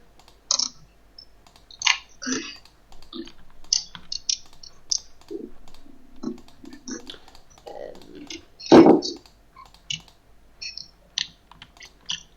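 Irregular bursts of key clicks on a computer keyboard, close and fairly quiet, with short pauses between runs and one louder thump near the end.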